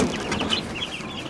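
Silver laced Wyandotte chickens cluck in a short, close, busy burst, with several overlapping calls and no talk.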